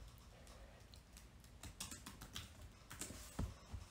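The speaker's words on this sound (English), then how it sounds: "They'll type in their answer" Faint, quiet typing on a computer keyboard: a scattered run of light key clicks that grows a little busier toward the end, with no talk.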